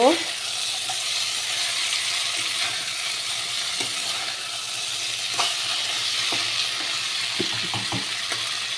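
Masala fries in hot oil in a pan as it is stirred, giving a dense, continuous close sizzle with a few scattered scrapes and clicks of the spoon, and no talking.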